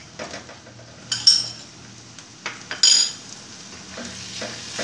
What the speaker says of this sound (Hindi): अब इसके अंदर चिकन का कीमा ऐड करेंगे